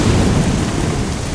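Thunderstorm with heavy rain and a deep rumble of thunder, loud and continuous throughout a short burst with no voices.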